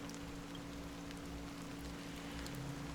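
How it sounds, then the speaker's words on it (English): A fine drizzle of black rain falls in the video game Honkai: Star Rail, a faint, steady hiss of rain with scattered soft patters and a low hum beneath. "Amidst the fine drizzle of black rain"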